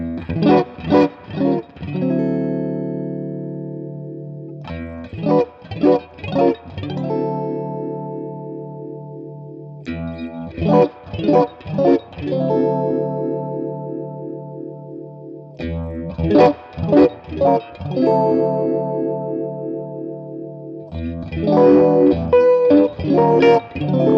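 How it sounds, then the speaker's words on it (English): An electric guitar runs through a Walrus Audio Lillian analog phaser pedal, first dry and then with the phaser blended in. Repeated strummed chord phrases ring out with gaps between them, the tone sweeping and swirling. "I'll show you how you can keep your dry signal and then blend in the phaser."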